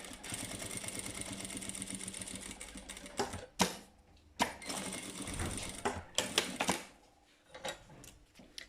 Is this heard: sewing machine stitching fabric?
yes